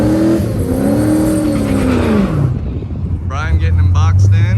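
Vortech-supercharged car launching down the PIR drag strip, its engine rising in a loud sustained roar that climbs through the gears, then fades as a voice speaks over the track noise.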